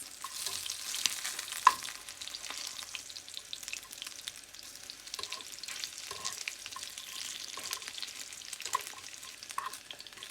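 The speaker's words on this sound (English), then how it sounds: "Our bacon here is cooking at a 6." Bacon fries in a lid-covered pan on a stovetop at medium heat, making a steady close crackling sizzle with small pops scattered throughout and no talking.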